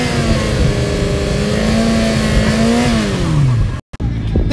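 Race car engine at the Sportsland SUGO circuit held at steady high revs for a pre-race noise level test, its loud droning pitch climbing slowly then falling away before cutting off abruptly near the end.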